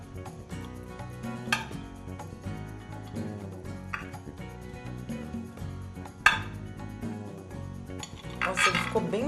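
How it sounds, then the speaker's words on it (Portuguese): A knife slices through pan-fried homemade bread, giving quiet scrapes and light clinks of utensils against a plate. Scattered taps and soft kitchen clatter come and go throughout. "eu vou cortar um pedacinho desse"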